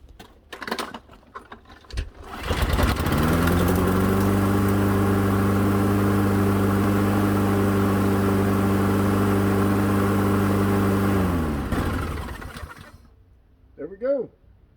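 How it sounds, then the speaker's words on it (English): A LawnBoy push mower engine is pulled a few times, catches and roars to life. It runs loud and steady with a constant droning hum for several seconds, then winds down and cuts off, leaving brief faint sounds afterward. "Another satisfied engine."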